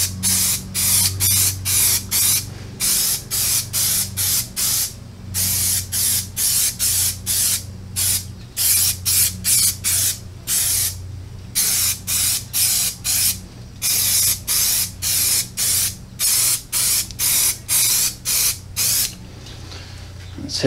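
Griot's Garage Black Satin tire coating sprayed onto a tire in repeated short hissing bursts, each lasting about a second, separated by brief pauses, close and loud with a low background hum.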